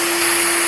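A DIY cyclone dust collector driven by a vacuum sucks air in a workshop, giving a short, steady, loud rushing whoosh with a constant whine.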